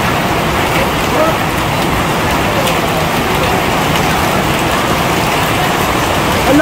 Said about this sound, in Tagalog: Ang lakas parang yelo.